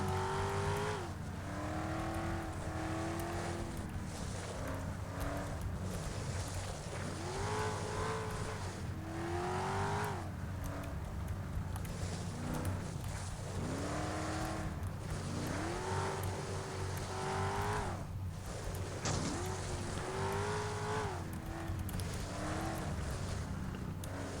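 Race car engine in Flatout on a snowy track, revving hard and continuously, pitch repeatedly rising and dropping as the driver shifts and lifts through corners, close and constant.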